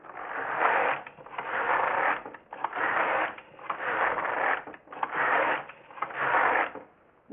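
A Passap knitting machine knits rows of 1:1 rib, the carriage swept back and forth in six steady whooshing passes with short gaps between, close and even with no talking.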